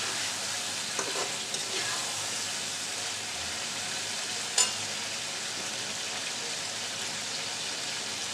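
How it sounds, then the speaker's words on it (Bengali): Ginger and garlic stir-fried in a pan for a spicy chicken jhaal fry, a steady soft sizzle with faint scraping and one small clink, no talking. "আদা রসুনগুলো দেওয়ার পরে ভালো করে একটু নাড়াচাড়া করে কষিয়ে নিতে হবে"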